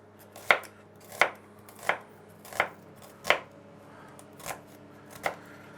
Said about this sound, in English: There are two ways of slicing an onion.